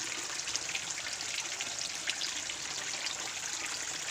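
Rainwater steadily trickling and splashing into a tilapia fish pond during long, continuous rain, a constant close watery patter with no voices.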